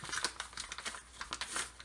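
A plastic bag holding a bag of flour is handled, giving soft, continuous crinkling and rustling close by with irregular bursts, no talk.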